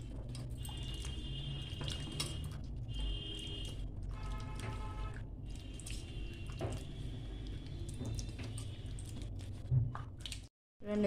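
Cut potato sticks are rubbed and swished by hand in a bowl of water for french fries, making close wet sloshing, squishing and dripping sounds with a brief gap near the end.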